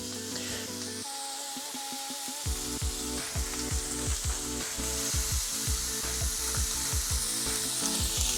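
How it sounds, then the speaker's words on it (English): Butter sizzles and fries steadily in a hot pan with pork chops, a loud continuous crackling hiss, joined by repeated scraping and stirring sounds from the pan, with no talk. "you just need to add a tablespoon of butter here. And we're gonna let that melt down."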